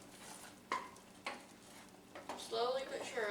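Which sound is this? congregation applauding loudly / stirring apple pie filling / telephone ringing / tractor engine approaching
stirring apple pie filling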